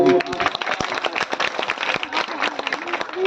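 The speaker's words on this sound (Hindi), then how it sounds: "तालियां जी।" Crowd applause at a Hindu religious discourse in Bathinda, Punjab, with dense clapping, fairly loud and continuous, mixed with a bit of voices in the background.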